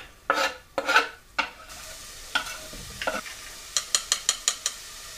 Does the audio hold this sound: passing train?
no